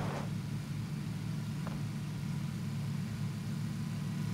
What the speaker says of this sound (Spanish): A ver, que he escuchado un coche cerquita.